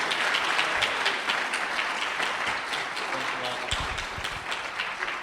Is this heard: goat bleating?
no